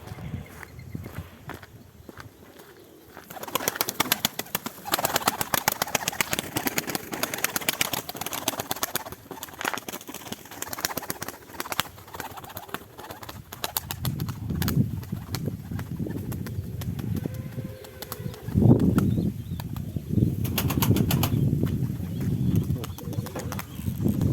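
A flock of pigeons takes flight with a dense, rapid flutter of flapping wings that rises and falls, then gives way to low, rumbling gusts of wingbeats and wind.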